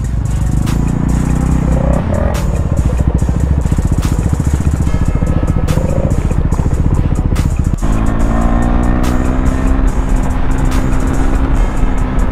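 A KTM Duke 390 motorcycle races on the road, its engine droning loud and close throughout, with rising revs and gear changes and a sharp shift in pitch partway through.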